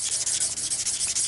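Sandpaper rubbed by hand over aluminum while working it toward a mirror polish: steady, close scratchy strokes in a regular back-and-forth rhythm, loud and continuous with no talking.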